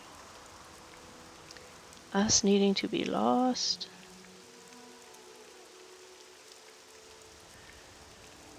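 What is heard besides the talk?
rain in the video game Morrowind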